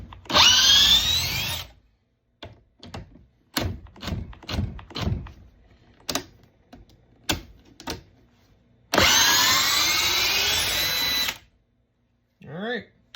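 A DeWalt 1007 drill running on a Hercules battery whines loudly in two bursts of about two seconds each. Between the bursts a person talks, with a few short clicks.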